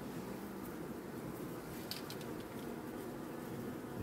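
Honeybees in an opened hive frame give a faint, continuous low buzzing hum, steady throughout with a few light clicks and handling noises near the close.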